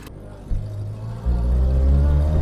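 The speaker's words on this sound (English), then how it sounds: "I've got a bad exhaust blow on the downpipe down there. That's why she's chuffing a bit." A Citroen 2CV engine idles with a steady low rumble and a rhythmic chuffing from an exhaust blow on the downpipe, growing louder and deeper partway through, with no talk.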